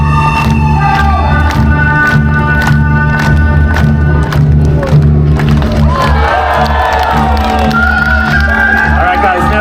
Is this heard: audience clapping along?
yes